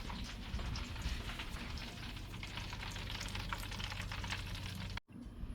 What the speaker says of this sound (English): we've got our grease rolling a little bit harder